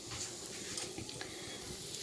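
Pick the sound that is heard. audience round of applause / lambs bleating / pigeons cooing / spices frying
spices frying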